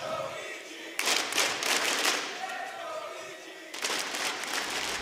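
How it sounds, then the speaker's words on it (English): A crowd cheering and chanting in an esports arena at a Rainbow Six Six Invitational 2018 match between Evil Geniuses and Rogue, rising in two loud waves beneath a commentator's voice. "Crowd once again trying to surge EG with confidence."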